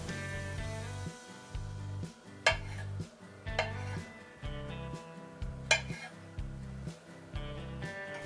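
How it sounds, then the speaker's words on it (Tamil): Knife cutting steamed idli into small pieces on a board in a home kitchen, with a regular series of soft, low chopping thuds and a few sharper clicks in between. "இப்போ இதை வந்து சின்ன சின்ன துண்டுகளாக நம்ம வெட்டி வச்சிடலாம்"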